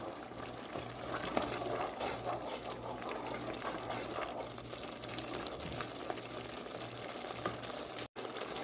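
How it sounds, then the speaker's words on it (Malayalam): Chilli chicken gravy thickened with cornflour slurry is stirred in a pan, giving a steady wet sizzle and bubbling with faint scraping. A low hum runs beneath it, and a brief dropout comes near the end. "ചേർത്ത് കഴിഞ്ഞാൽ നന്നായിട്ട് ഇളക്കി കൊടുക്കണം."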